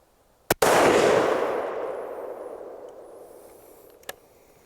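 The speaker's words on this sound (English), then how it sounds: "All right, so that's our first shot." A single loud rifle shot fired from a tree saddle during hunting practice, a sharp crack followed by a long rolling echo that fades over several seconds, with a faint click near the end.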